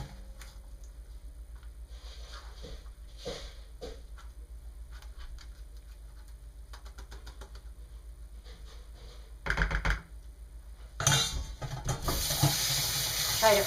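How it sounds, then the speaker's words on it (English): Tap water runs over stainless steel lye buckets during soap making, a faint splashing that swells into a louder steady rush near the end after quiet handling clatter. "Try to always rinse my lye buckets and lye stuff out so that it doesn't leave crusties on it."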